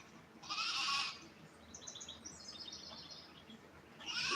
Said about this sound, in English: I think the goats are hungry.